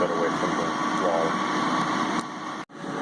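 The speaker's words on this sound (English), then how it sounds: "on the back of the unit is the exhaust fan, so it does blow out warm air" Exhaust fan on the back of a Ninja 4-quart ceramic air fryer, running as a steady broadband whir with a faint tonal hum, close and continuous until a brief dip near the end.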